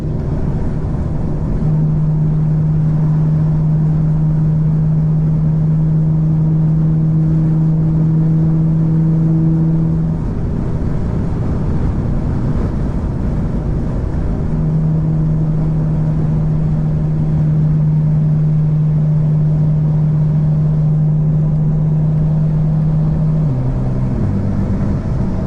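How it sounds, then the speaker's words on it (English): A 2024 BMW M4 Competition xDrive (G82) with its valves open drones steadily from inside the cabin through slightly opened windows on a late-night drive, with two long sustained engine tones over loud road and wind rush and no talking. "I'm gonna crack the windows a little bit, get some sound in."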